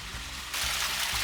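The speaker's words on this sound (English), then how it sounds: "Waterfall." A steady roar of rushing water from a waterfall in Blackdown Tableland National Park starts partway through, a broad hiss that swells and holds, with faint low rumbles underneath.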